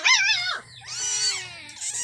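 A dog whimpers and yips in high, wavering cries, a quick whine followed by longer plaintive yelps close by, with a low hum underneath.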